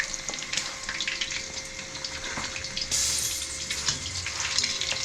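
Fish shallow-frying in hot oil gives a continuous, close sizzle with crackling pops that brighten partway through, with no talking over it.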